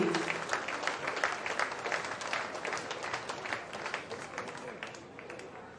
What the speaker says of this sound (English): Huge round of applause to you indeed.